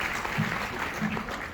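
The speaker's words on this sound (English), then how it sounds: "Please give her a big round of applause." An audience at a school annual function, Firstcry Intellitots in Hegdenagar, claps steadily for a short stretch, with the dense clapping moderately loud throughout.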